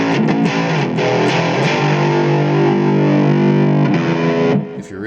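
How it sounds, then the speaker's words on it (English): Heavily distorted electric guitar through a Line 6 Floor Pod Plus modeling pedal, sustained chords with a thick saturated buzz, loud and continuous for several seconds before cutting off near the end. "If you really want to firm up that distortion sound."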